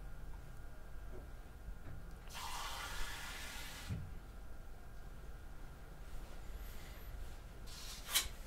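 A tap runs briefly to fill a glass with water, a short burst of flowing water lasting about a second and a half in a quiet indoor room, followed by faint handling sounds and a small clink.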